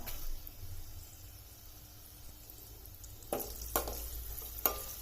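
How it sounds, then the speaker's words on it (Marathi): Three dried red chillies and a few curry leaves drop into hot oil for a tomato pickle tempering, giving a steady soft frying hiss with a few sharper crackles and sputters toward the end, close and fairly quiet, no speech. "या सुक्या तीन लाल मिरच्या मी तोडून घेतल्या या आता आपण यात घालायच्या हा थोडासा कढीपत्ता"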